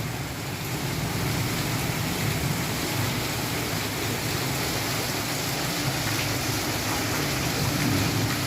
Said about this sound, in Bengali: হাওয়া, বৃষ্টি, মাঝে মাঝে বজ্রপাত